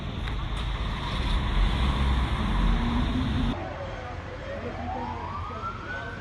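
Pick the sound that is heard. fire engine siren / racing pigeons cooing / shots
fire engine siren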